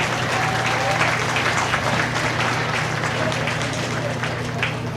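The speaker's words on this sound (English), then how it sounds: "Give them a good round of applause here." An audience at a county feeder calf show claps steadily for the full stretch, a dense, even round of applause with no pauses.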